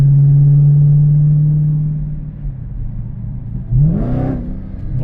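A small-engined car revs and catches a higher gear, a steady droning tone holding then dropping before a rising rev sweep near the end, close and fairly loud with no talk.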